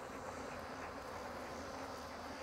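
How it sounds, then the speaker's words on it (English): Honeybees buzzing around open hives as frames of honey are pulled, a dense steady drone of many insects close by with no voices. "Excuse my bees, y'all."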